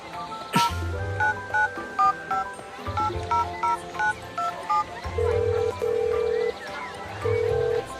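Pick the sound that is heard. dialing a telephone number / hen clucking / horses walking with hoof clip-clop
dialing a telephone number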